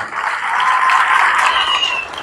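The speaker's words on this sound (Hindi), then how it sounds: "ये इसके लिए आप एक बार जोरदार तालियां बजा दो इसके लिए" Audience at a religious gathering applauding loudly, a continuous wash of many hands clapping that swells slightly in the middle and holds steady throughout.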